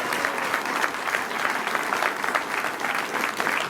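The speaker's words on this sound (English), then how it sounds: "Again, another round of applause." Steady applause from a campaign-event audience in Belleville fills the room, a dense, continuous clatter of many hands with no talking over it.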